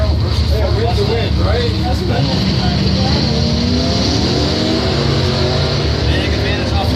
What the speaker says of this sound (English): Camaro versus Ford Mustang.